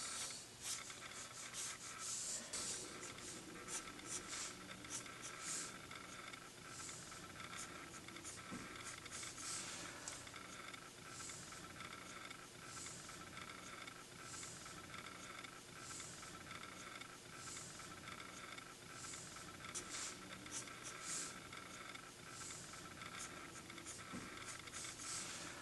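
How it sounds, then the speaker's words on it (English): Soft, continuous scratchy rubbing of a pencil sketching color onto a drawing of Ariel's lips, a faint close-up papery scrape with small irregular strokes throughout and no talking. "you can kind of sketch in a color for her lips just to kind of differentiate that from her teeth"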